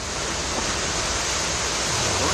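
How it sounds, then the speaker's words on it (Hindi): Floodwater from heavy rain pouring over the top of the full Ranjit Sagar dam in Jamnagar, a loud, steady, roaring rush of water that fills the whole clip without pause. "ज्यादा पानी होने की वजह से डैम के ऊपर से पानी बह रहा है।"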